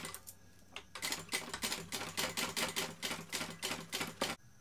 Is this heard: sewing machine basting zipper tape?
yes